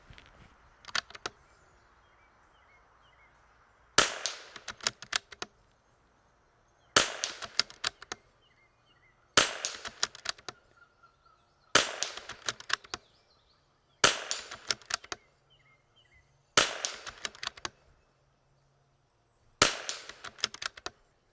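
Eight rifle shots fired at long range from a rifle in an MDT ACC Elite chassis, each a sharp crack followed by a brief echo, spaced roughly two to three seconds apart, with quiet outdoor ambience between shots and no speech.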